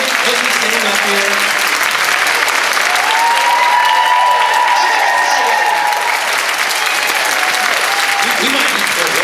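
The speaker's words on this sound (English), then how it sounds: "Let's just kind of give a round of applause for all the husbands that came today." Loud, steady applause from a seminar audience honoring the husbands who attended a jewelry business event fills the whole stretch, with cheering and a voice calling out above the clapping partway through.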